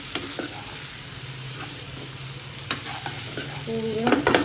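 Dhemas (Indian round gourd) being sautéed in a pan, a steady close sizzle with occasional spatula knocks and scrapes that grow busier toward the end, with no talk.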